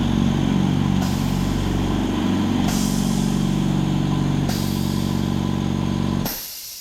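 A Silent Chicago Hush 150 air compressor runs close by with a loud, steady motor drone and hiss that holds evenly for several seconds before cutting off abruptly near the end.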